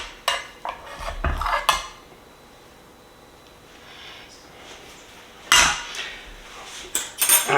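A utensil cuts into a corner piece of smoke-fired breakfast casserole of potatoes and eggs, with loud clinks and scrapes against the dish at the start and again near the end, separated by a quiet stretch.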